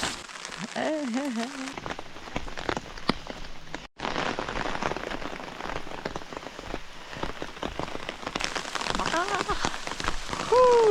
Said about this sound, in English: Monsoon!